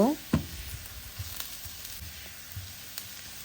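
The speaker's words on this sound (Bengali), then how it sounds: "এখন সবগুলো একসাথে সুন্দর করে ভেজে নিব" Quiet sizzling of chopped green chilli and ginger frying in a pan, with occasional soft stirring taps; a brief voice-like sound at the start.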